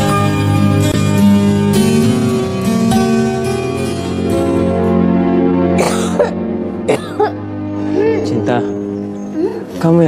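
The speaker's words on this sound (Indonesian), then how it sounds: "Paling ini cuma batuk biasa aja. Tapi batuk kamu itu terus-menerus loh." A young person coughs repeatedly and persistently, a series of harsh, close coughs and throat clearing heard alone over a soft sustained background tone.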